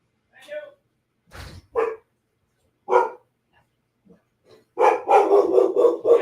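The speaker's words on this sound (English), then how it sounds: "You bark at nothing." A dog barks several times, starting with scattered single barks and ending in a loud rapid run of barks, close to the microphone with brief pauses between bursts.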